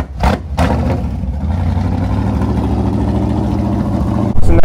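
Chevrolet Corvette C4 engine cranks and fires, then settles into a steady, loud, rumbling idle heard up close, with a clunk at the very end.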